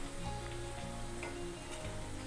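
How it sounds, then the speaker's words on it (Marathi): Sabudana fasting snack deep-frying in hot oil over a high flame, a steady dense sizzle and crackle running throughout at close range with no talking. "फास्ट गॅसवर हे तळून घ्यायचं आहे दोन्ही साईडने छान गोल्डन कलर येईपर्यंत हे तळून घ्यायचं आहे"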